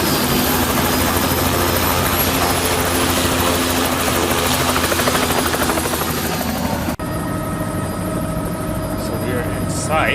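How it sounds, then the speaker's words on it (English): Inside a five-passenger helicopter in flight, the loud, steady rotor and engine drone fills the cabin continuously, dropping abruptly in level partway through, with a voice speaking over it. "it was a 5-passenger helicopter"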